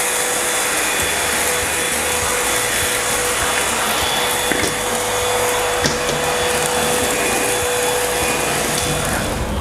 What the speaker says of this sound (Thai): การทดลองการใช้งานเครื่องดูดฝุ่นไร้สาย IMVC 20เครื่องนี้